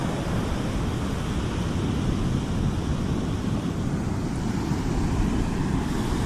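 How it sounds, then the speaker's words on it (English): Rough ocean surf at a beach flying a red no-swimming flag: a steady, loud, unbroken roar of crashing waves mixed with wind buffeting the microphone, with no voices. "if you look at the waves"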